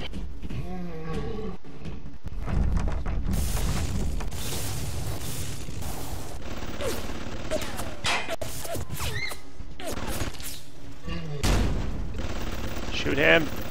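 Rapid gunfire and heavy combat effects from the BioShock video game, including bursts of shots and roaring creature noises, fill the whole stretch loudly, with excited voices talking over the action.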